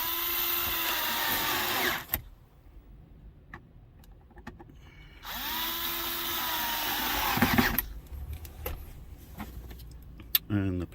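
Power driver running T15 Torx screws into the top of a 2010-2019 Dodge Ram center console, two separate whirring bursts of a few seconds each, close and fairly loud, with light clicks and handling noise between them.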